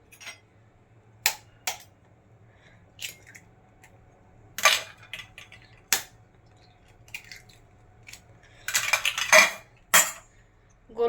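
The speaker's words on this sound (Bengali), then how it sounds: "এবারে আমি 2টো ডিম ফাটিয়ে নেব" Two eggs cracked against the edge of a bowl while making a bhetki fish fry, sharp isolated clicks and taps of shell and utensils, with a denser cluster of clatter near the end in a quiet kitchen.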